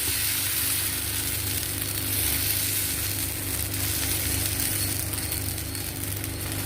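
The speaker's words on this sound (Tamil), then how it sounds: "ஒரு கரண்டி மாவு விட்டுட்டு இந்த அடையை வறுத்துக்கலாம்" Pearl millet adai batter frying on a pan gives a steady, even sizzle with a constant low hum beneath, unbroken and moderately loud throughout.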